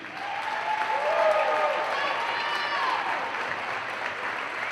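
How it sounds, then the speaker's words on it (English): A crowd in a gym at a college volleyball match applauds a senior player, giving a steady wash of clapping with cheering voices and shouts mixed in throughout. "Ladies and gentlemen, another big round of applause for Julia Pomeranke."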